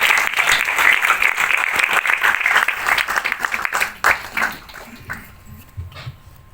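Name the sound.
loud audience applause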